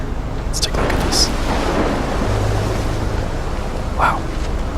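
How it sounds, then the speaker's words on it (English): Thunderstorm with heavy rain in the video game Life is Strange, near a lighthouse: a steady loud roar of rain and wind with low rumbling thunder throughout, sharp crackles breaking through now and then. "It's a crazy storm."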